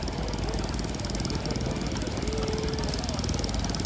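Stationary engines run steadily at a tractor fest, a dense, continuous mechanical chugging and knocking at close range with no pause throughout.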